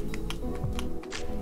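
The pump button on a Milk Makeup Sunshine Skin Tint SPF 30 bottle is pressed over and over, giving several light, close plastic clicks at an uneven pace against a low background hum.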